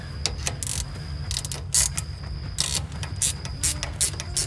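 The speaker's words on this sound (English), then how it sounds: "Get a couple wrenches, tighten that up." Wrenches tighten hardware on a car's shifter, giving repeated close metallic ratcheting clicks in quick irregular bursts over a low steady background hum.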